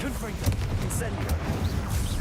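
Fire and blasting spells go off in Hogwarts Legacy, a dense run of loud booms and crackling bursts that nearly fill the space while a voice speaks over them.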